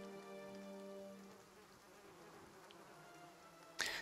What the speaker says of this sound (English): The only answer you hear is the buzzing of flies from the tree.